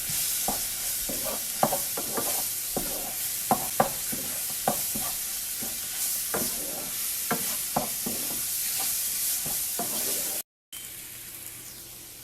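Flour and mushrooms browning in a hot pan give a continuous sizzle and fry, broken by repeated scraping stir strokes at an irregular pace and a short dropout near the end, with no talk.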